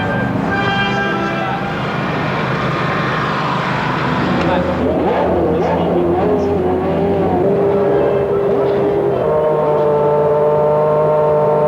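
Formula 1 cars from the 1994 season roar away from the race start, a loud layered howl of high-revving engines rising in pitch as the field accelerates, with commentary voices underneath.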